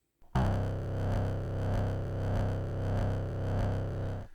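A looped sampler track built in a Cubase sampler cycles a sustained, buzzing tone with a slow, regular wah-like sweep in loudness and tone, starting abruptly and holding steady until cut off.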